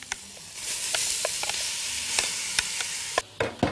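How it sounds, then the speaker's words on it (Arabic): Butter and onion sizzle steadily in a hot pot, a continuous close frying hiss broken by occasional sharp crackles and spits, with a brief stir near the end and no talking. "هنا حلة سخنة، زبدة، بصل من بتاع التتبيلة"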